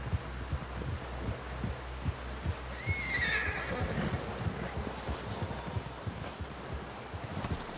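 A horse whinnies once over steady rhythmic hoofbeats in the video game Red Dead Redemption 2, with a low thumping pulse running underneath.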